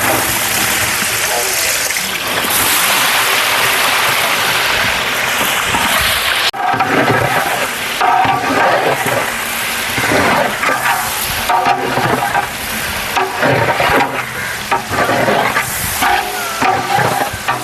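Onions and green chillies frying and being stirred in oil in a huge batch for a 50 kg chicken biryani, a steady loud sizzle with scraping stir noises and a sharp shift partway through, voices heard in the background.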